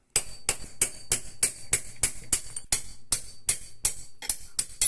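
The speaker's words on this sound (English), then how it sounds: "give it a smack with a hammer, and your small end bearing comes out" A hammer taps sharply on metal about a dozen times in a steady rhythm, driving out a connecting rod small end bearing, each strike crisp and close with a short ringing decay.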